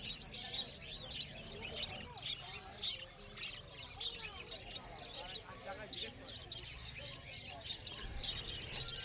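Caged Java sparrows and finches chirp busily at a crowded pet bird market, with many small high-pitched tweets overlapping in a dense, continuous chatter under people talking nearby.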